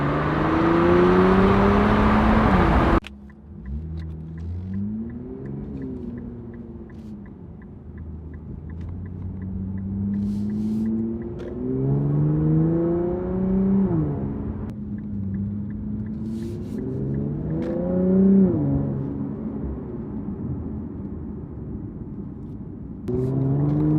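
An Infiniti Q60 Red Sport 400 with the Infiniti sport exhaust and a muffler delete drones and rumbles through several long accelerations, engine pitch climbing then dropping between gear changes, steady and fairly loud throughout.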